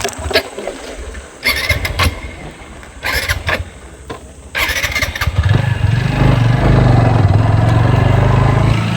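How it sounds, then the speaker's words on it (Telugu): A stalled motorcycle on a winding mountain road cranks in several short loud bursts, then catches and settles into a strong, steady, close running rumble for the last half. "బైక్ అనేది ఆగిపోయింది అనమాట."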